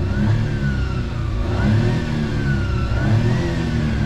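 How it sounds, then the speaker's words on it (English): A 1995 Suzuki Carry kei truck engine revs and hums up close while driving, a thin whistling tone rising and falling with each pull of acceleration. "I'm gonna drive a little bit so you can hear it, but it has like that little whistling noise"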